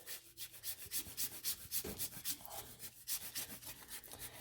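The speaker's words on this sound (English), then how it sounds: "So I'm going to take my grater here, and I'm going to grate my" Specialty Hershey's dark chocolate being grated on a hand grater, a close, dry rasping scrape repeated in a fast, steady rhythm of strokes with nobody talking.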